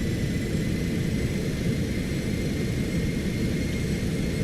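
Cessna Citation X jet engines in a flight simulator game, a steady, dense low rumble with an airy hiss, held constant and unbroken throughout.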